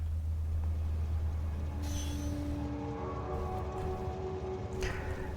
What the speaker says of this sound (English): There should be a train dispatched here very soon.